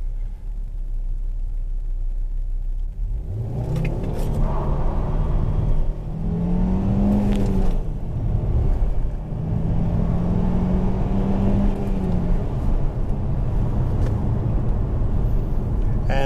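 A Ford S-Max Titanium with a 2.5-litre 20-valve turbo engine making 220 horsepower accelerates hard, its engine rising through the revs in loud, rumbling surges with gear-change dips, tires slipping with traction control off.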